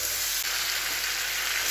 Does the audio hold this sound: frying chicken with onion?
yes